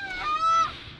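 A single close goose-like honk from a flock of birds flying behind hunters, loud and brief, lasting under a second.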